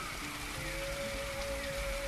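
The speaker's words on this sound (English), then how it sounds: "Rain is so loud." Rain patters steadily in the video game Echoes of Extinction, an even wash of noise with a few faint sustained tones running through it over a brief stretch.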